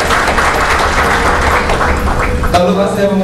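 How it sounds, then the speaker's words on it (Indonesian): Audience applause at a company's 25th anniversary celebration for PT Catur Elang Perkasa, a broad steady wash of clapping that continues throughout, with a voice coming in near the end. "Tepuk tangan lagi dong untuk kalian semua."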